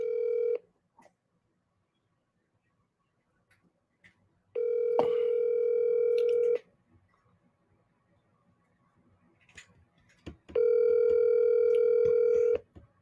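A telephone rings with a steady electronic tone in long bursts, a short partial burst followed by two full rings about two seconds each, separated by silence, with no talking.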